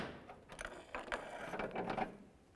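A hand ratchet with an 18mm socket loosening transmission mount nuts on a 2000-2005 Buick LeSabre, a quick series of close, dry clicking bursts.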